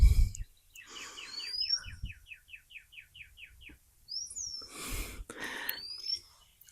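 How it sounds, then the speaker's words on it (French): Birds singing outdoors on a vegetable farm in Montérégie, with a quick run of repeated chirps, several sharp rising whistles and scattered calls, faint against soft handling noises. "Est-ce que vous entendez les oiseaux?"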